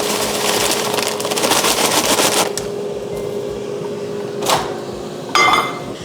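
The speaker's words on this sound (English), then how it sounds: "just microwave it for a few minutes" A microwave oven heating frozen quinoa gives a steady mechanical hum with a constant tone throughout, ending in a sharp beep and a clunk near the end, no voices.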